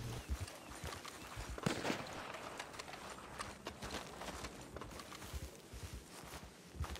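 Horse hooves clip-clopping in the Red Dead video game, a quiet, uneven patter of hoof strikes alongside faint ambient bird cooing, with no talking.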